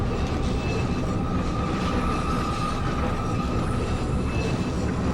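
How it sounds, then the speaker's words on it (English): In the video game Resident Evil 4, a mine train rolls toward a cliff, its loud, steady rumble and metallic rattle filling the whole stretch without a break, with no talk over it. "All aboard the Doomsday train."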